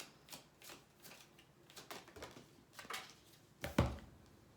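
Tarot cards being pulled from a deck and handled during a reading, giving a run of soft, quick flicks and slaps at an uneven pace, with one louder snap near the end and no talking.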